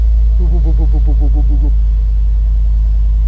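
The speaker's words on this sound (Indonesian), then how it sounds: "Ini paling menyenangkan starter AMG." A Mercedes-AMG G 63 engine starts up with a loud, close rumble, a brief rising rev, then a settled, deep, steady idle.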